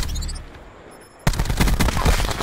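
DMR rifle fire in the Black Ops 4 video game: a quieter stretch breaks into loud, rapid shots that keep cracking in quick succession to the end.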